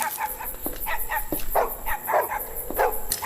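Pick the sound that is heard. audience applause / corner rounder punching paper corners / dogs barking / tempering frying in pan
dogs barking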